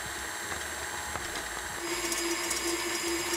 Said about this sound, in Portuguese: eu coloquei a clara, o cremor tártaro, a gente já vai falar sobre esse ingrediente, e o sal na batedeira e deixei eles batendo sozinhos